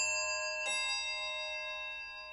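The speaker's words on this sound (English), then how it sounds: "The act of being conditioned by a bell like this." A bell rings with a bright struck onset, its sustained tones lingering and slowly decaying for about two seconds, loud and alone with no talk.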